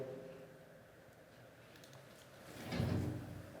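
An old jail door is moved, giving a faint creak and then a low scraping rumble that swells louder near the end in a quiet, hollow room.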